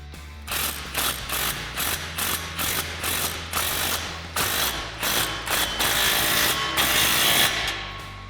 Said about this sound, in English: Now we can snug that down with our 15mm socket.